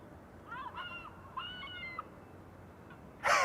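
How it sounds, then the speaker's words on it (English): Predator bird calls blare from an airport bird control vehicle at Amsterdam Schiphol: a few wavering cries in the distance, then a sudden louder, harsher call close by at the end. "Yep, predator bird sounds."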